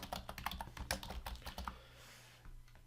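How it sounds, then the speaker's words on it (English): Rapid keystrokes on a computer keyboard while a customer name is entered into point-of-sale software, close and fairly quiet, in quick irregular bursts that stop partway through, leaving a low steady hum. "from here you can type in a customer name."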